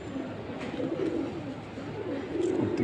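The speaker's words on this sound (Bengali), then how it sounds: "পুরো হলুদ চোখের কবুতর মাশাআল্লাহ" A yellow-eyed pigeon coos in low, soft, rolling phrases that run through the whole stretch at a steady moderate level, with faint background noise around it.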